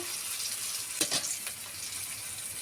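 Green chillies, bay leaf and whole cumin frying in hot oil give a steady, close hiss with a few brief crackling bursts, heard alone.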